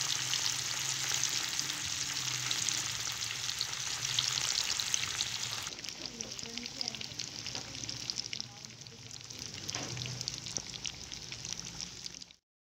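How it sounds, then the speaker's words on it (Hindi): Fish pieces fry in preheated oil for a Lahori-style fish fry, giving a steady, close, dense sizzle and crackle that runs the whole time and thins slightly in the second half, with no talking. "पहले से गर्म किए गए ऑयल में मछली के ये टुकड़े फ्राई कर लेने हैं।"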